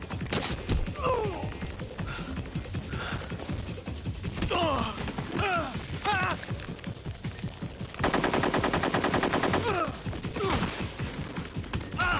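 Metal Gear Solid 3: Snake Eater gunfire comes in repeated sharp shots and a sustained rapid burst of automatic fire, mixed with game voices and effects.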